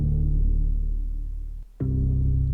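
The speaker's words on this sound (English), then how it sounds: "This is actually just a little clunk from a piece of wood." A small wooden clunk pitched down several octaves into a deep bass tone, heavily EQ'd, compressed and drenched in reverb, sustaining loudly, cutting out briefly near the end, then returning as a droning low boom.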